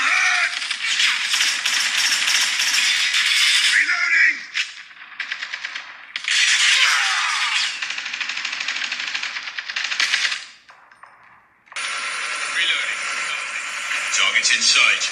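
Shooter game played on an iPhone 12 Mini and iPhone 12 Pro Max, with dense rapid gunfire bursts and rattling shots in long stretches, brief gaps between volleys, and in-game voice lines mixed in, loud and continuous.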